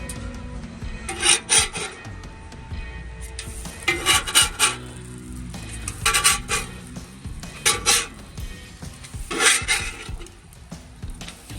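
A metal spatula scrapes and flips pancakes and bacon on a two-burner Monument Grills griddle, with four separate bursts of rasping scrapes over a soft sizzle and no voices.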